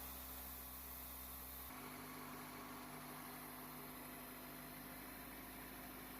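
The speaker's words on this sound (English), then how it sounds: "The engine did quiet down a little later on." A 2000 Toyota Celica GT engine idles after an oil pan gasket repair, a steady, faint low hum with an even drone and a slight shift in tone partway through.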